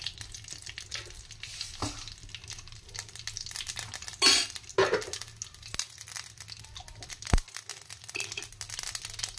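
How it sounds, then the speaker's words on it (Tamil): Mustard seeds spluttering in hot oil during tempering for a greens dish: steady close crackling and popping throughout, with a few louder sharp pops and no voices. "எண்ணெய் சூட வச்சு கடுகு மட்டும் போட்டு தாளிக்கலாம்."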